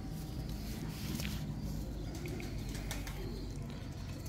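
Domestic pigeons from a fancier's flying flock coo softly in a low, steady murmur, with scattered chirps and a few wing flaps over constant background noise.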